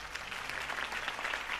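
A crowd in the Batman Telltale Series game applauds after a campaign speech, a steady dense wash of clapping heard at a moderate distance with no voices on top.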